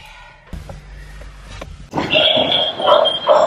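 A person imitating a pig's oinking, giving a few loud, rough nasal grunts in quick succession outdoors, during a bike outing, over a steady background hum.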